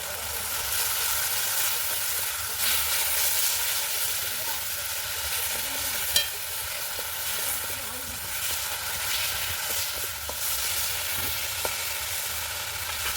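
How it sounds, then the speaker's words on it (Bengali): Spice masala of chili and turmeric powder with a splash of water is stir-fried for a besan curry, making a continuous loud hissing sizzle with occasional utensil knocks and no talking. "মশলাটা ভালো করে কষিয়ে নেব"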